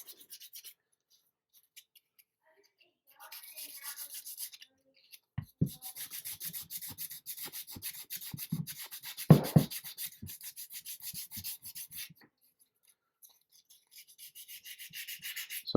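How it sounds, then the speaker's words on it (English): Sandpaper rubs back and forth over an epoxy seam line on a resin figure in rhythmic, quiet strokes that stop and restart several times, close up with no talk. "So I'm going to sand this around, get that kind of nice and even as much as possible."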